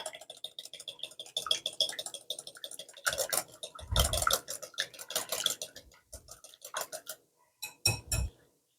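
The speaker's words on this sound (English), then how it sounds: "Next, I'm going to whisk this so it's all mixed together." A whisk beats a garlic aioli mixture in a bowl, making rapid close metallic clinks and scraping ticks in uneven bursts, with a few louder knocks near the end.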